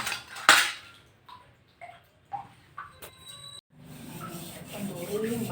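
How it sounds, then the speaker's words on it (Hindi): Dishes, pots and utensils are washed, giving scattered metallic clanks and clinks of cookware spaced a second or so apart, followed by a softer running wash of water near the end. "जल्दी जल्दी बर्तन धोती हूँ"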